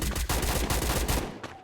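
Rapid automatic gunfire from the video game Free Fire, a dense burst of loud repeated shots in quick rhythm that cuts off near the end, with no talking.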